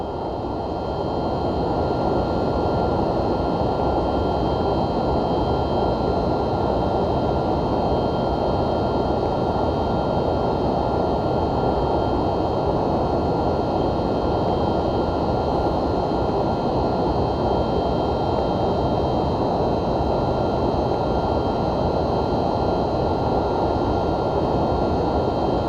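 An MD-11 airliner passes in a flight simulator, a steady, loud broadband engine roar with a low rumble and faint high whine, holding at constant level throughout with no talking.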